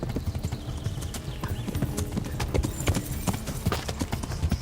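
A horse trots in a video game, with close, crisp hoof clip-clops in a quick, uneven rhythm and faint background noise.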